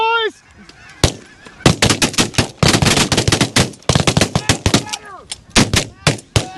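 Shotgun blasts crack in a rapid volley during a duck hunt, loud and close, with geese honking before and between the shots.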